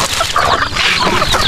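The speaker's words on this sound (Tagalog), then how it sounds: "May mga manok tayo dito sa kabilang side." Chickens and chicks clucking close by on a farm in a coconut plantation, a busy overlapping chatter of hen calls with no voices.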